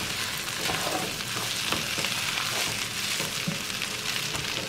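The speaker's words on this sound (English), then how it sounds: "you fry until they start browning, and then you put the gravy" Food browning in a pan before gravy is added gives a continuous close hiss of frying, with soft irregular crackles and a few faint stirring clicks throughout.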